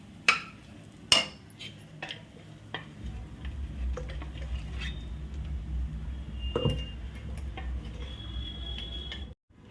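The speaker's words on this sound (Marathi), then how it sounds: "आता कूट आपल्याला चांगला परतून घ्यायचा आहे" Crushed peanuts stirred and sautéed in a pan for sabudana khichdi, giving soft scraping spoon taps and clinks over a low steady sizzle, with a few sharper knocks near the start.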